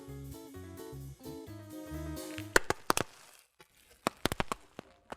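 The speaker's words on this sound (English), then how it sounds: "That is the supremely gratifying sound of popping bubble wrap" A burst of sharp, irregular pops and crackles of bubble wrap being popped, loud and close, following a short stretch of music that fades away.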